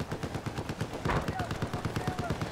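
Rapid bursts of gunfire crackle through a Battlefield 4 match, a steady rhythmic string of shots with one louder blast midway, loud and close over dense battle noise.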